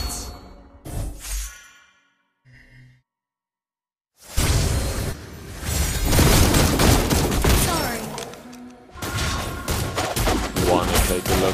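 Rapid bursts of gunfire from Granger's crescendo bullet in the mobile game Mobile Legends, short shots with silent gaps at first, then dense, loud volleys of firing and whooshing effects running for several seconds.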